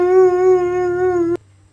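A dog howls in one long, steady, tonal note lasting over a second, loud and close, then stops abruptly.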